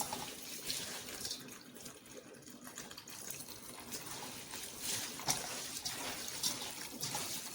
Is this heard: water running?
yes